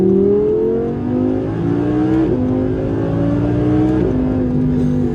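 A 2017 Audi R8 V10 Plus accelerates hard, its engine note climbing steadily through the gears with two audible upshifts. The sound is loud and heard from inside the car, with no talking.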